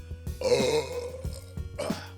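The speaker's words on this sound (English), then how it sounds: "there's a belch of approval if there ever was one" A man lets out a long, deep belch up close after tasting a drink, followed by a couple of shorter guttural burps, with no talking over it.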